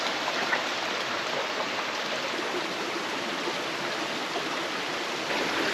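A river on California's coast flows with a dense, steady rushing hiss, close and unbroken throughout, with no voices.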